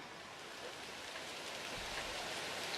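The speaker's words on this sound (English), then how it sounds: "Lupin and I sigh while we stare outside the pouring rain that's hammering the window." Pouring rain hammers a window in a PC fantasy tavern game, a steady dense hiss of drops that grows slightly heavier toward the end, with no voices.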